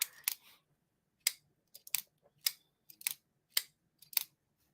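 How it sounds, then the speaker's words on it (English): A silent-clicking pen clicked repeatedly: about eight to ten crisp, sharp clicks in an uneven rhythm, some coming in quick pairs, close and clear against silence, with no talk. "This is why I have a silent clicking pen."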